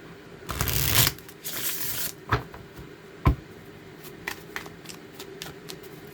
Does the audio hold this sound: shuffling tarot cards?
yes